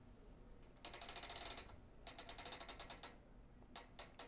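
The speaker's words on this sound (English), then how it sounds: "take my clamps off. And let's roll that quilt to where it should be." A quilting frame is ratcheted as clamps come off and the quilt is rolled, giving quick runs of sharp mechanical clicks in three bursts, close but fairly quiet.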